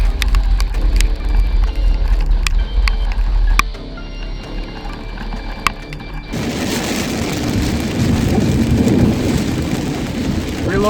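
Heavy rain hammers a car during a storm chase, with low rumbling thunder and scattered sharp drops at first, then a sudden surge into a loud, steady downpour roar.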